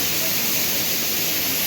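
A waterfall roars from very close by in Theth National Park in the Albanian Alps, a dense, unbroken hiss of falling water with light voice traces beneath.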